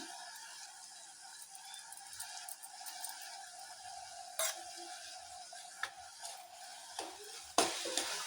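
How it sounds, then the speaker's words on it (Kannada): A spoonful of ghee is stirred into a sweet village-style kadabu mixture in a pan: a faint, soft sizzle with scattered light scrapes and clicks of the spoon against the pan. "ಲಾಸ್ಟಲ್ಲಿ ಒಂದು ಚಮಚದಷ್ಟು ನಾನು ತುಪ್ಪ ಸೇರಿಸ್ತಾ ಇದ್ದೀನಿ"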